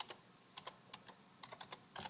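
Quiet, close keystrokes on a computer keyboard tap in short irregular bursts, a few isolated clicks followed by a quicker cluster, with no speech over them.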